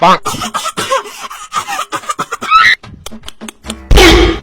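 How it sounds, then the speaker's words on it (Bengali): People talk, then a sudden loud, exaggerated cough bursts out at the end, theatrical and forced rather than natural. "এত অ্যাবনর্মাল ভাবে কে কাশি দেয়"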